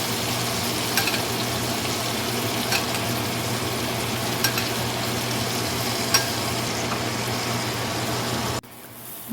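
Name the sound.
filet mignon steak basted with butter and garlic in pan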